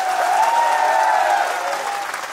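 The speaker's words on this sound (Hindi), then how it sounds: "ऐसी ताली बजाइएगा जो पार्टी इस देश को जातियों में बांटना चाहती है उसके कानों के अंदर तक ये देशभक्ति वाली ताली पहुंचे।" Dense, steady applause from a large audience at a political rally in rural Jaipur featuring Yogi Adityanath, loud and sustained throughout before easing slightly near the end.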